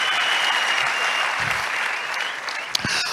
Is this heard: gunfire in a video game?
no